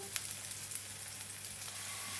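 Potato pancakes fry in hot oil in a pan, giving a soft, continuous sizzle with tiny crackling pops heard up close and without talk.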